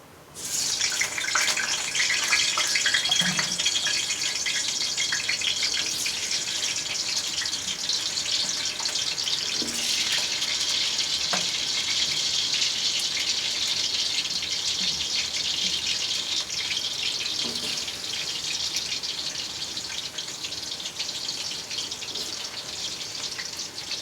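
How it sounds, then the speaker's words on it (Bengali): Potatoes fry in hot oil in a wok, giving a steady, close sizzling hiss that runs unbroken throughout with no talking. "এই যে এখানে আলু ভাজা হচ্ছে।"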